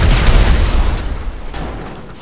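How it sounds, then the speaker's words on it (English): A large explosion in GTA V involving a Pfister Comet SR sports car booms loudly at the start, then rumbles and crackles as it fades away. "Cool guys don't look at explosions."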